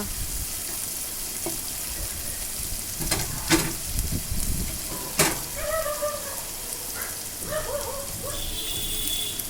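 Garlic and onion frying with chili powder in a hot pan, a steady close sizzle with a few sharp stirring clinks and scrapes, no talk.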